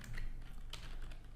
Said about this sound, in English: let me just type out like